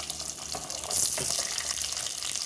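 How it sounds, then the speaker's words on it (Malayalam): Curry leaves and small shallots drop into hot oil and set off a steady, bright sizzle that swells after the first second and stays loud and hissing to the end. "കരിവേപ്പില ഇടാം, ചെറിയ ഉള്ളി ഇടാം,"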